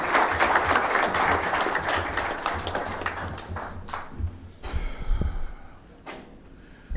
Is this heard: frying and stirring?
no